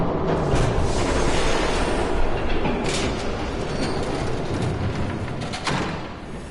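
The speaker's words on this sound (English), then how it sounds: "There's a train coming. Take cover." A train rumbles loudly and steadily in the Batman Telltale game, a dense continuous roar of wheels and rail noise with occasional brighter clanks and squeals.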